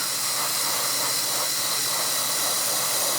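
An airbrush fitted with a .50 nozzle spraying paint onto a 1/16 Tamiya King Tiger RC tank, a close, steady, loud airy hiss that runs unbroken with slight pulsing and no voices.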